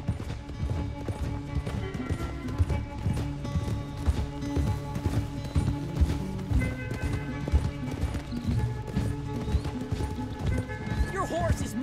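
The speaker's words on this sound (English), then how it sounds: "Your horse is much bigger." Horse hooves clip-clop rapidly in a steady gallop through the video game Red Dead Redemption 2, close and continuous, with music and occasional voices layered underneath.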